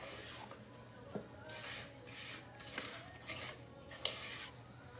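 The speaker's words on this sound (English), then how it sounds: "I'm gonna scrape down my bowl one more time" A spatula scrapes down the sides of a mixing bowl of vanilla buttermilk pound cake batter in a kitchen, making repeated soft rasping strokes close by with no talking.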